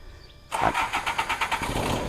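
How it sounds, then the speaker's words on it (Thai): An Isuzu NKR medium truck's diesel engine cranks briefly and catches at once, settling into a loud, close, rhythmic idle with no voices. "ฟังเสียงเครื่องกัน ว่าติดเครื่องเป็นยังไง"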